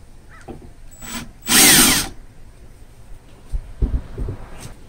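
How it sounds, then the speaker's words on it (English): A power drill whines briefly and loudly for under a second, drilling a shallow pilot hole, framed by quiet handling clicks and knocks from tools and material, while making a window screen. "Then we're going to drill two very shallow pilot holes."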